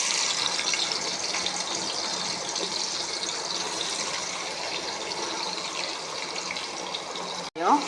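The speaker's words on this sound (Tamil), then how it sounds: "அடுத்தது வெங்காயம் வதக்க போகிறோம்" Onions sautéing in a pan for chicken biryani, along with cardamom, cinnamon and cloves, give off a steady, even sizzle throughout before a brief clatter right at the end.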